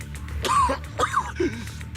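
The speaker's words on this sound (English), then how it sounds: "You're coughing up blood." Someone coughs and clears their throat in a few rough, strained bursts, close up, with background hum underneath, in the video game Zenless Zone Zero.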